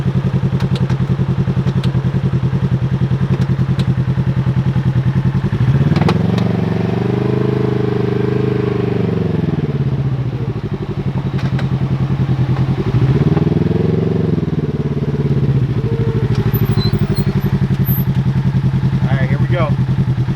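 Polaris Ranger XP 1000 side-by-side in performance mode and two-wheel drive, running loud and close for a street speed test, its steady engine drone swelling twice as it revs up, with talk over the engine.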